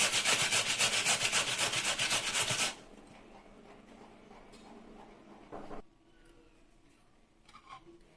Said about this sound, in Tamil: உருளைக்கிழங்கு இந்த மாதிரி சீவி எடுத்துக்கலாம்.